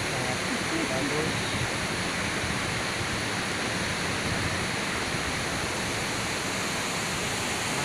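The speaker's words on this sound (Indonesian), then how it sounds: "Nampak air terjunnya sangat bagus." Lae Impal waterfall: continuous broadband rushing of falling water, loud and even throughout with no breaks, heard close by.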